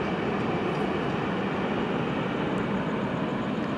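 A train rumbles past steadily at close range, a continuous dense roar of wheels and rail noise with no voices.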